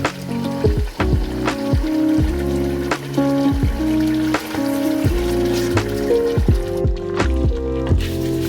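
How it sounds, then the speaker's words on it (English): Hot water poured into a pressure cooker pot of Jamaican curry goat with bone-in meat: a continuous bubbling, gurgling pour with repeated plopping and sloshing, loud and close, with no talk. "I'm gonna add some hot water and so forth"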